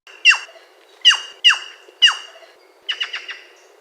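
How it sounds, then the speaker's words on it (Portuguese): A plush-crested jay (gralha picaça) gives four sharp, descending squawking calls at a steady pace, followed by a quicker chattering burst, all clear and close against near silence. "A gralha que engana o quintal inteiro com uma voz que não é dela."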